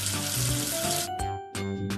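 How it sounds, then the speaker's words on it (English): Cartoon water-rinsing effect in a children's alphabet learning app: a hissing gush of running water over light background music, broken by brief splashy bursts near the end. "Wash away the soap with water."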